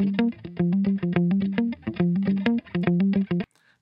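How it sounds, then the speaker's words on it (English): A distorted electric guitar loop from BandLab Studio, an R&B loop, plays a choppy, rhythmic riff of short repeated notes, steady and upfront, ending abruptly. "Here's a bunch of R&B guitar loops that you can easily start your beat with"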